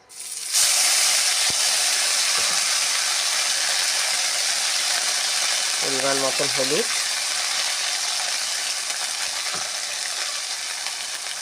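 Spices sizzle steadily in hot oil with fried mung dal in a home kitchen, a constant bright hiss with occasional spoon taps, while someone speaks briefly.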